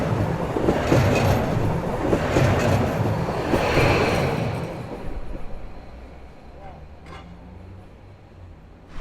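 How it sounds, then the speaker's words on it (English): A train rumbles and rattles loudly past close by in Zagreb, Croatia, then fades away, leaving a quieter outdoor background with a few faint clicks. "I get the sound of the train."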